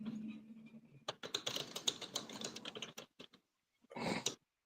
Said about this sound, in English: Ryan, how are you making all that keyboard noise with no keyboard?